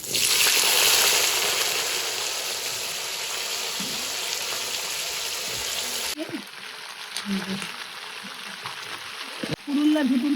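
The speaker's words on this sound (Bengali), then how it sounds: "এই সিম দিচ্ছি আমি" Green beans (flat sim) hit a hot frying pan in a Bengali kitchen, giving a loud, dense sizzle for the first six seconds that then drops to a quieter crackle with scattered clinks and soft handling noises.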